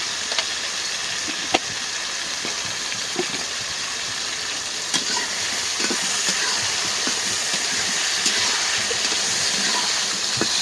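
Eggplant fries in hot oil seasoned only with salt, giving a steady loud sizzle and hiss with scattered pops and crackles throughout.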